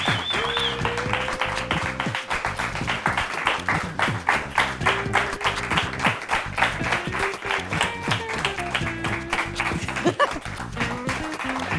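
Studio audience applauding to welcome a country singer at a radio station event, dense continuous clapping close by, with some cheering and a few voices mixed in over the full stretch.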